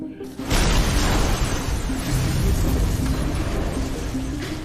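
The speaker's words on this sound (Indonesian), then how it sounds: "si sopir yang sudah berubah menjadi zombie mengemudikan truknya menabrak beberapa mobil lalu meledak di depan kantor polisi" A sudden loud blast as a truck crashes into cars and explodes in a video game gives way to a sustained roaring rumble of crashing debris that slowly fades.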